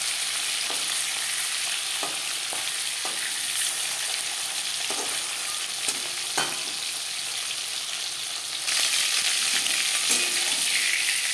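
Steady dense sizzle of chela fish frying in hot oil in a pan, continuous and close, with occasional soft clicks and pops, getting a little louder toward the end.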